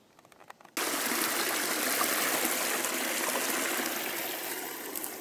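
Mountain spring stream flowing beside a river in the Carpathians, a steady, close rushing of water that starts suddenly after a short quiet moment and holds on loudly.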